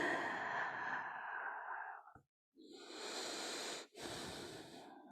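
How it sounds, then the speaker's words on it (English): Long, airy breaths out during a yoga session, two drawn exhales separated by a brief pause, close and breathy with no talking over them. "breathing out."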